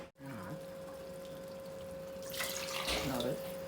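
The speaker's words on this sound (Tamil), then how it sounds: "இப்போ இன்னும் கொஞ்சம் தண்ணி கலந்து விடுவோம்." Water pours steadily into a pot of onion tamarind curry, a continuous splashing rush that swells toward the end over a constant hum of kitchen background.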